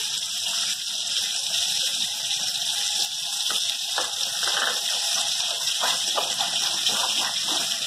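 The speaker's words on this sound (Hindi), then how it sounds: "पानी मिला दीजिए." Water is poured from a tap into mustard paste to make a sauce for Bhetki fish with okra, a steady gushing flow running the whole time at close range with a few brief splashes and clinks.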